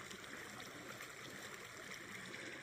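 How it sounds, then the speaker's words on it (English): A small, cheerful mountain brook flows steadily beside trail tent sites, giving a soft, even wash of water with no pauses, heard alone. "Very cheery little brook here"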